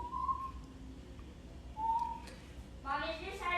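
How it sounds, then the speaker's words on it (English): A person whistles a few short, thin tones at close range, with a pause between them and a brief warbling burst near the end, over a quiet room background. "is this how you whistle?"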